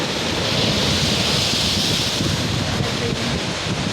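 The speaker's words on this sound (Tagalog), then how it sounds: "Oh, lakas ng alon oh." Loud, continuous crash of strong ocean waves with heavy surf noise and wind buffeting the microphone, no voices.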